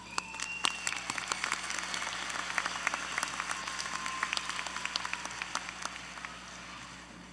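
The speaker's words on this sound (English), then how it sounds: "Students, please join me in applauding the efforts of those in attendance today, as well as those who could not be in attendance today." Graduation ceremony crowd applauding steadily throughout, a dense patter of many hands with a few sharper nearby claps standing out, moderately loud in a large hall.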